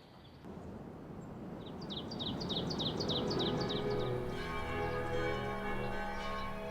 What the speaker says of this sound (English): It's 4 o'clock in the afternoon. The bell sounds and everyone stops for tea.